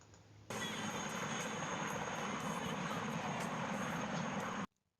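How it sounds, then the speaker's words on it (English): A Westland Lynx twin-engined military helicopter flies at an air show, a steady, broad roar of engine and rotor that starts abruptly, holds evenly, then cuts off. "Westland Lynx, multi-purpose twin-engined military helicopter."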